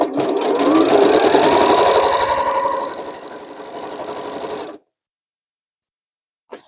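A sewing machine stitches seams on vinyl tote bags in one loud, continuous run of nearly five seconds with a steady mechanical whir that eases slightly toward the end, then stops, leaving silence and a brief final clack.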